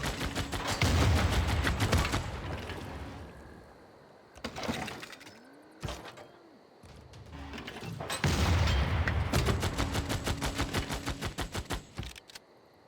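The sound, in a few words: units firing in Civilization VI video game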